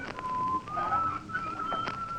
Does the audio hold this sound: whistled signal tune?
yes